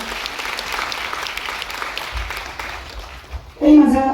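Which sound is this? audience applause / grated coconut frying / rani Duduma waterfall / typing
audience applause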